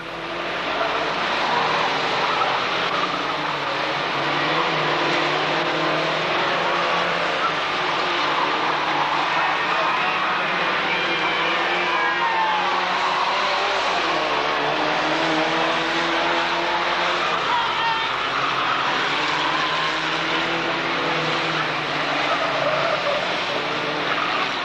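Vans racing round a club circuit the wrong way at a 1991 Braintree Auto Club van meeting, engines droning continuously from a distance with tyre noise and shifting pitch as the pack circulates, with no pauses.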